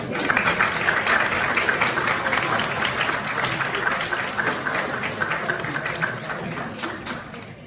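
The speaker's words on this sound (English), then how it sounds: "I think we deserve a round of applause" Wedding guests at a ceremony applaud together after the couple's vows, a steady, dense wash of many hands clapping close by that holds evenly throughout.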